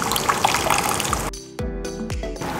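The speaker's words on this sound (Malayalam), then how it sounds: "ഒരു കപ്പോളം വെള്ളം ഒഴിക്കാം." Water left from cooking chickpeas splashes into a pan of chana gravy, a steady close pour that stops abruptly partway through, followed by sharp clinks and a lingering hum.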